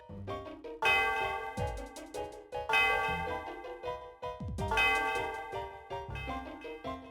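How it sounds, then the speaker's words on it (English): The Celestial Tower bell in Pokémon White rings three times at slow, even intervals, each strike bright and resonant, its long reverberating tail washing out before the next. "it just sounds like a bell, but it reverberates through the area"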